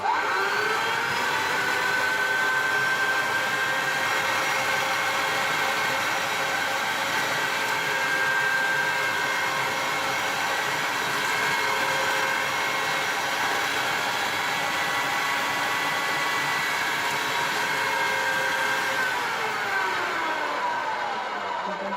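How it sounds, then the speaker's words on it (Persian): A steady motor whine and grinding drone runs continuously and loud for a long stretch, an old electric meat grinder with no voices. "چرخ گوشت من قدیمی، صدا شاید اذیت کنه"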